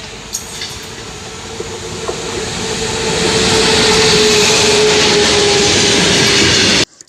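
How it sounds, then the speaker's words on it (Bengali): A train pulls into Balarambati station, a broad rumbling roar that swells from a moderate level to loud and close, then holds steady with faint rail clatter before cutting off abruptly. "কিছুক্ষণ বসে রইলাম, তো ট্রেন এলো, ট্রেনে উঠে পড়লাম।"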